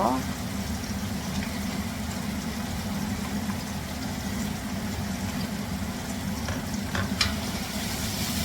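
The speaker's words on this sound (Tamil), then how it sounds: "உருளைக்கிழங்க போட்டு உருளைக்கிழங்க நல்லா தாளிச்சிடுங்க" Potatoes fry steadily in a pan, a soft continuous sizzle with occasional stirring scrapes, fairly quiet and close.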